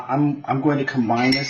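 Forks mixing ground beef in a bowl, with scraping and clinking of metal against the dish heard faintly beneath a person talking.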